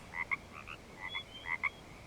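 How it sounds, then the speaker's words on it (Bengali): Frogs croak outside after a rainstorm, a quiet series of repeated paired calls in an uneven rhythm at a moderate distance over faint background hiss, with no talk. "ব্যাঙের ডাক ভেসে আসছে বাইরে থেকে"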